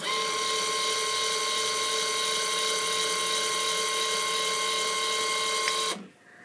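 The actuator motor of a DIY robot mic stand whines steadily at close range, an even high-pitched mechanical drone holding for about six seconds before cutting off abruptly into quiet.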